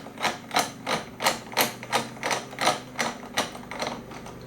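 A level accessory clicks onto a Milwaukee Packout rail, with about a dozen evenly spaced mechanical clacks and ratcheting knocks, close and clear.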